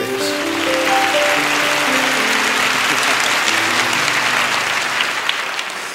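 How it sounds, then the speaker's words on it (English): Congregation at a live gospel service in Brooklyn Tabernacle breaks into sustained hand clapping, a steady loud wash of applause throughout with music tones underneath. "Give Him a hand clap of praise."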